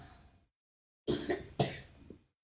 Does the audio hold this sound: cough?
yes